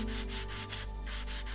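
Steady rhythmic rubbing of sandpaper on rusty rails in the station-renovation game Train Station Renovation, a continuous scraping in quick repeated strokes over a constant low hum, with no talk.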